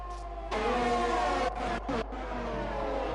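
Race cars in a sim racing video game lap the track at a Great Britain round, engines droning loud and steady with shifting pitch as cars pass, a brief lull mid-way, no speech.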